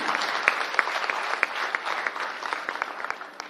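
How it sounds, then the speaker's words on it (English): A hall audience applauds to welcome a senior IAS officer at a technology policy event, a steady, full round of clapping with sharp individual claps standing out, fading slightly at the end. "I request you all to give a round of clap for him, to welcome him"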